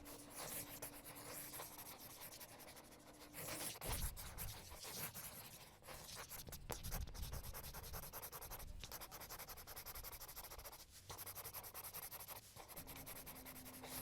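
A marker is drawn across paper in a continuous rubbing, scratchy stroke, quiet and close, with brief pauses and shifts in pressure and no talking.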